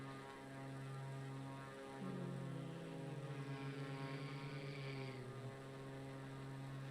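Steady droning aeroplane engine in a flight video game, a constant propeller-like hum with a brief rise in pitch midway, continuous and even with no talking.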